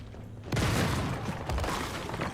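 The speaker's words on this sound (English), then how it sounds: "Set up an explosive, let me through, gentlemen, and blow up this wall, or use a grenade." Explosive charge blowing up a wall in the video game Once Human: a sudden loud blast after a quiet moment, followed by a sustained crumbling, rumbling roar with debris clatter.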